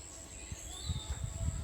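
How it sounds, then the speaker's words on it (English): Birds chirp in the countryside of Costa Rica, a thin high whistle-like call held faintly in the background over low rumbling noise and soft nearby sounds. "Hear the chirping of birds."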